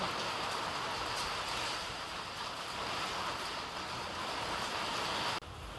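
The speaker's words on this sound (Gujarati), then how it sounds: "બહાર વાવાઝોડું વરસાદ ચાલુ છે" Steady roaring wash of heavy rain and gusting windstorm at night during a power cut, constant and broadband, cutting off abruptly near the end.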